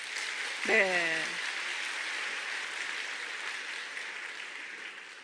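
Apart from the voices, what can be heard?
audience applause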